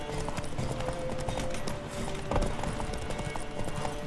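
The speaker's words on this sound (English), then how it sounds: "This isn't my horse." Rapid rhythmic hoofbeats of a horse galloping, steady and close, over continuous game background noise in The Witcher 3: Wild Hunt.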